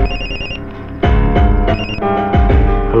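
A telephone ringing loudly and close, its electronic ringtone repeating in rapid bursts of bright tones with no talk over it.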